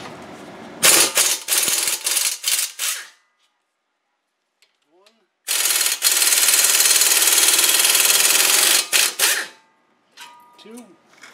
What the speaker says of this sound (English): next step is to take the caliper bracket off. We've got two 16 millimeter bolts.